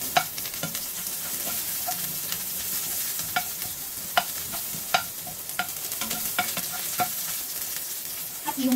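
Onion and ginger sautéing in a hot pan with a bright, constant sizzle broken by regular scraping stirs of a utensil, close and clear, with no talk.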